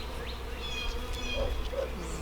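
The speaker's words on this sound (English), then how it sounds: "You have bees all over your suit." Honey bees buzz steadily close by, a dense droning hum with a few individual insects whining past.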